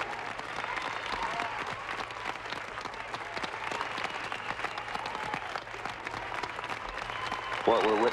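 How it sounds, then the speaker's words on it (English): Steady clapping and cheering fill a mission control room after the lunar landing, a dense patter of many hands at moderate distance with voices talking throughout. "So there's a cheer in this room."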